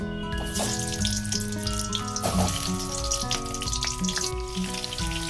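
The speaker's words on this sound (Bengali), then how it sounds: "এবার আলুটা ভাজা করে নেব" Potato pieces fry in hot mustard oil in a wok for mutton biryani, giving a steady, close sizzle and crackle that runs throughout, with faint tonal background sound and no voices.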